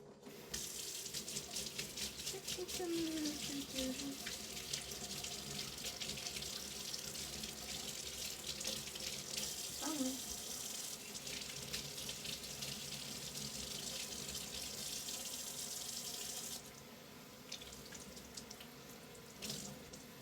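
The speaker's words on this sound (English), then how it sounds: "Now, you're going to want to rinse your wig." Cold water runs from a sink tap in a steady close rush while a wig is rinsed under it, the flow briefly changing as the wig is moved, with no talking.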